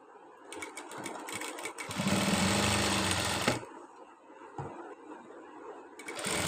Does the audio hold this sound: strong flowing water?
no